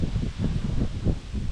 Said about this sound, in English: Sorry about the wind. It's been windy all day